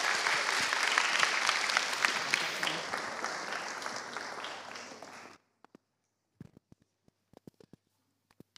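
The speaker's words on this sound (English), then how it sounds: "Can we give a round of applause for our helpers?" A church congregation gives a warm round of applause for the helpers, dense clapping for about five seconds before it stops abruptly, leaving near silence broken by a few faint knocks and shuffles.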